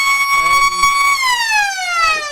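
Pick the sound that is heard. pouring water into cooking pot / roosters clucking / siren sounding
siren sounding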